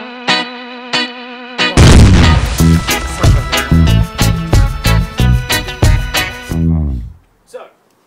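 A gunshot strikes a pressurized, bulging Pepsi bottle: a loud boom followed by a burst of sharp crackling impacts and echoing distortion, fading into a short tail.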